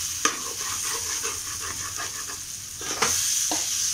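Egg, potato and tomato curry is stirred in a frying pan: a steady close sizzle runs throughout, broken by soft scraping strokes of the spoon and a couple of sharper clinks against the pan.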